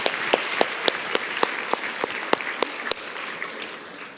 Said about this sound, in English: So if we could just give them a round of applause and recognize that